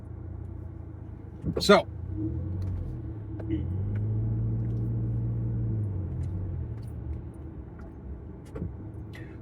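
A car driving on the road, heard from inside the cabin: a low steady engine and road rumble under a voice, with a brief louder whoosh early on.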